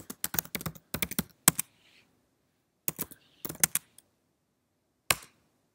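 Short bursts of crisp clicks come from a computer keyboard on a Mac as a command is typed, close and distinct, separated by silent gaps and ending with a single final keypress.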